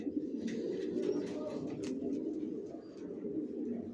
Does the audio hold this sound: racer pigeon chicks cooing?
yes